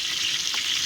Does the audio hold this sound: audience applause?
no